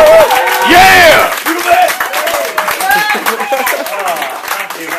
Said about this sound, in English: can we please have a massive round of applause for Darren Rawnsley?